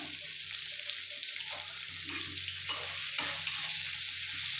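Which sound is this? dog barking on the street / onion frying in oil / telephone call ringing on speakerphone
onion frying in oil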